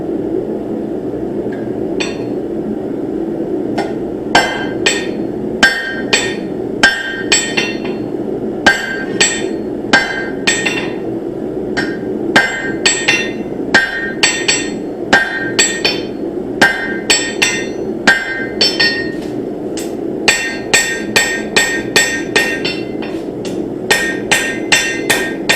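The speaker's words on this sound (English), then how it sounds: "We're hitting on all areas, basically 4 different points on an area, and then hitting it flat, flipping it around, and doing the same thing." A hammer strikes a seax blade on an anvil during forging, with sharp metallic clangs in irregular clusters and quick rhythmic runs over a steady low background roar.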